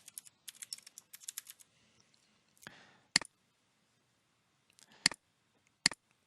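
Computer keyboard keys clack quietly in a short burst of typing, then a few isolated sharper clicks follow with silent gaps between them, close and alone.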